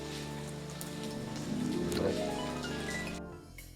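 Steady rain falls in the video game Lucy Dreaming, a soft, continuous patter under a tonal musical background, fading off near the end.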